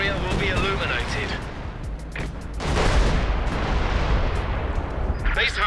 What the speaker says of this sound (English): Sustained barrage is being fired as ordered